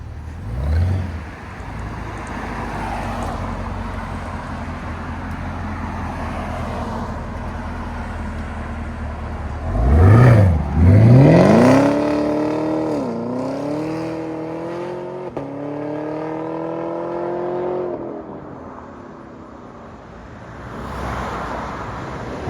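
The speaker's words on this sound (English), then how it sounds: "(2018) Chevy Camaro ZL1." A 2018 Chevy Camaro ZL1 with a supercharged V8 and high-flow cats idles with a deep burble, then revs hard around the middle in a loud climbing roar, followed by sustained rising engine notes before settling back down.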